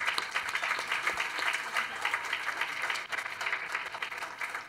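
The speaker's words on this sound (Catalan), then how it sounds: "doncs va un aplaudiment a tots" Applause at a student awards ceremony for the students and teachers, a steady wash of many hands clapping from the audience with a faint murmur of voices underneath.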